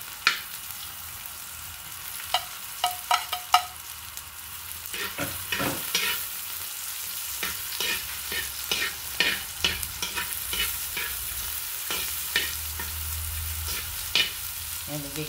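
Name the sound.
sautéing boiled bamboo shoots in oil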